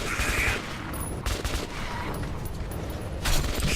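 Dense battle gunfire in the video game Metro 2033 Redux: overlapping rifle and machine-gun volleys crackle nonstop at a loud, even level for the whole stretch, with no voices.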